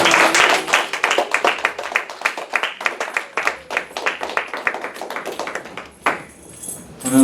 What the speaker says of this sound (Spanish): Vamos a darle un aplauso al nuevo pastor en inglés de Jesucristo Ministerio.